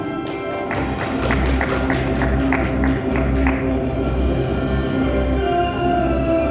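Applause at a regional government work meeting hall, steady clapping from a seated audience over a low hum of the room's sound system, sustained and fairly loud.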